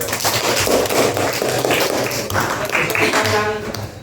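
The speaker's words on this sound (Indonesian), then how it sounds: "tepuk tangan" A class of students claps their hands together in a lively burst of sharp, close claps, loud and irregular, with voices mixed in.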